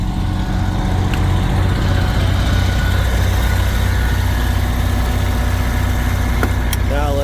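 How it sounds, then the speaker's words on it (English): An engine idles in a loud, continuous low drone with a steady hum throughout, recorded close. The source is a generator aboard a race toter truck, with a brief higher whine near the end. "Alright, so generator's on."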